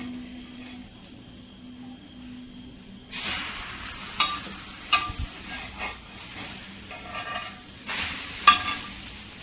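Egg-dipped bread for a bread egg omelette hits a hot pan and starts sizzling about a third of the way in, a close, crackling fry with occasional sharp spatula or pan clicks.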